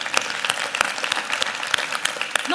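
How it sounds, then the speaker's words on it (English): A conference audience applauds after a talk on ocean health, with a continuous patter of claps and a few sharper individual claps standing out, fairly loud and close. "And I think that deserves another round of applause"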